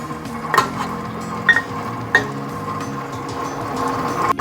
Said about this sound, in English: I'm adding the milk and egg mixture, and I'm going to let it mix